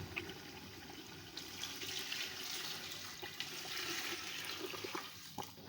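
Water runs steadily into a cooking pot of rice for aloo matar pulao, a continuous close rushing pour with no talk.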